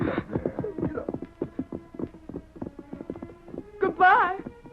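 Horse hooves clip-clopping at a steady walking rhythm in an old 1940 radio drama, close and continuous through the clip, with a brief louder burst near the end.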